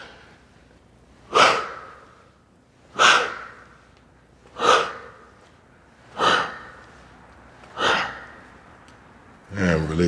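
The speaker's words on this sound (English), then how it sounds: "Exhale as you rotate." Six forceful breaths pushed out in a steady rhythm about every one and a half seconds, close and fairly loud, during a Kemetic yoga mobility rotation with no talking over them.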